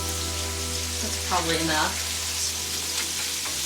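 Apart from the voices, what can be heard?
arugula sizzling as it cooks down in a pan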